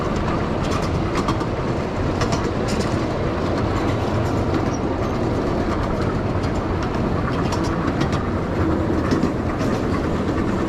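Riding a miniature live steam train pulled by a Pennsylvania Railroad double header at Los Angeles Live Steamers, a steady close clatter and rumble of wheels on track with rhythmic clickety-clack, continuous throughout.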